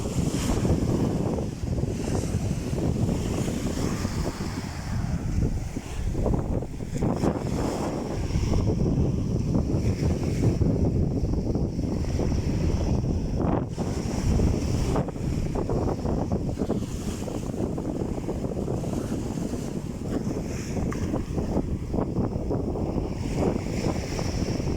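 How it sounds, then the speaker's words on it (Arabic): Steady wind buffets the microphone over sea waves washing onto Azla beach near Tetouan, a continuous loud roar with no speech throughout. "البحر ما هايشي بزاف."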